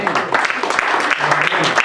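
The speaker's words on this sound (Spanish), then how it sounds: "no sé si le podemos dar una fuerte de palmas al Señor, hermanos" A church congregation claps for a visiting member during a youth service, a ragged run of hand claps mixed with voices talking over it, fairly close and steady throughout.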